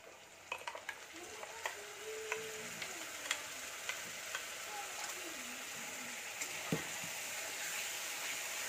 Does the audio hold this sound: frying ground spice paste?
yes